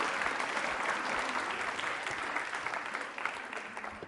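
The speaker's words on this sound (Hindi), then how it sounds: "तालियां जोरों से बजाइए इनके लिए आप।" An audience at a Holi quiz show at a university applauds a student, a steady wash of clapping that carries on for several seconds and gently tapers.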